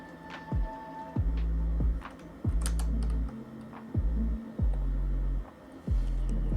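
Fingers type on a computer keyboard while entering HTML code, a close run of crisp clicks and taps in uneven bursts, with a low hum underneath and no speech.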